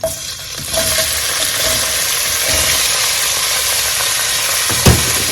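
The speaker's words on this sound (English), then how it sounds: "We'll go ahead and add our shallot and onion." Shallot and onion fry in a pan for spinach jollof rice, a dense steady sizzle up close with occasional stirring scrapes and a sharp utensil knock near the end, without speech.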